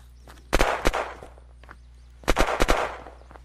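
Gunfire in the video game Kilmore: two quick clusters of three or four loud, close shots, separated by a short pause over a low droning hum.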